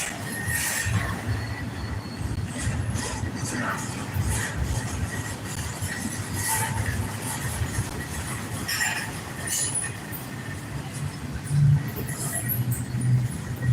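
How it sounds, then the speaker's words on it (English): A train rolls past in a sustained, steady rumble with rattling and faint wheel squeal over nearly fourteen seconds, heard fairly close and continuous throughout. "I like watching trains"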